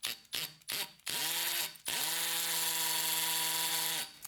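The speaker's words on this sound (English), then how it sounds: "You gotta have a hammer drill to use Tapcon, so you switch into hammer mode" A hammer drill in hammer mode bores into cinderblock to set Tapcon anchors, a few short bursts followed by a long, steady, loud grinding run.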